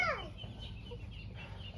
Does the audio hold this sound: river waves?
no